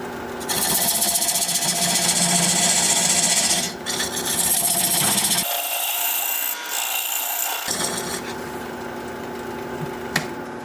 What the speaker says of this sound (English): I'm going to use this dovetail tool to square up the sides of the tenon.